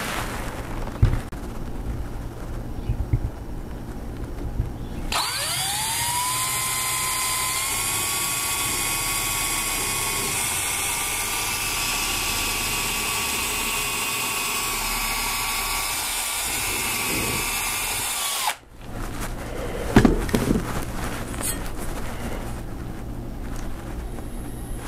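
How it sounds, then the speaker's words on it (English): A power drill whines loudly and steadily for about thirteen seconds while boring pilot holes in a wooden frame, stopping abruptly, with a few knocks and handling noises before and after. "let's just go ahead and put some pilot holes in there."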